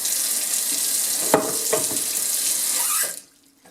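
Water streams steadily from a kitchen faucet into the sink, a constant hissing rush with a few splashes before the tap shuts off and it falls quiet.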